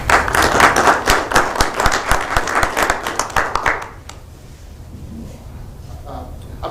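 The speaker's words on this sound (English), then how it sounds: "I applaud you." A city council meeting breaks into a burst of applause from the room, many hands clapping densely for about four seconds before fading into quiet room murmur.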